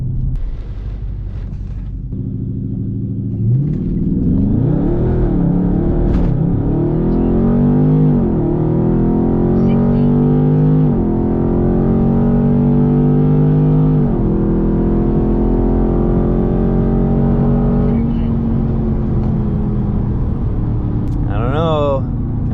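A Dodge Charger 392 Scat Pack V8 launches hard on a dusty strip in straight-track mode, a loud rising roar climbing through several gear changes over about twenty seconds, with speech heard over the engine.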